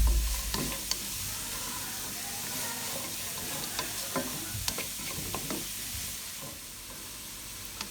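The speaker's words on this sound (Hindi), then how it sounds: "बंद गोभी को इसमें फ्राई करते हुए तकरीबन 2 मिनट हो गए हैं।" Cabbage stir-fried in a pan for chicken vegetable noodles, giving a steady close sizzle broken by repeated spatula scrapes and stirs throughout, with no talking.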